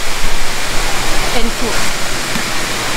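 Erawan waterfall in Kanchanaburi, Thailand, pours with a loud, steady rushing roar that fills the whole scene, and a voice speaks briefly over it.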